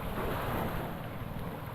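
Sea waves at Malitbog, Southern Leyte wash in a steady, broadband roar with wind buffeting the microphone, loud and continuous throughout, with no voices.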